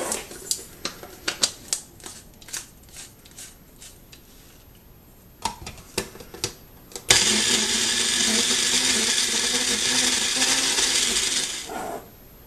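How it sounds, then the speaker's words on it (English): Cooked brown rice for baby food is pureed in a small blender jar: a few sharp clicks and taps, then the motor roars on steadily for about five seconds before cutting off. "we put it in a little blender jar, and now we're going to blend it up and mix it with enough formula or breast milk"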